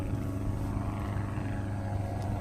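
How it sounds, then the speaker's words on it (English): Steady low droning of a propeller aircraft engine, a constant rumbling hum with no pauses, fairly loud and unbroken. "I heard the plane get louder and louder"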